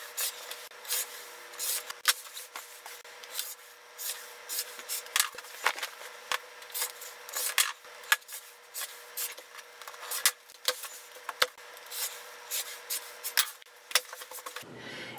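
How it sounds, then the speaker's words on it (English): Scissors snip repeatedly through a fabric panel just inside its black border, giving a steady close run of crisp cutting and rubbing strokes with no talking. "So I'm going to just cut all on the inside of the black border."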